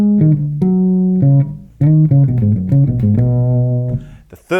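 Unaccompanied electric bass working through the second phrase of a unison riff: held and bouncing plucked notes in a syncopated pattern, recorded close and clean, ending in a short fading tail.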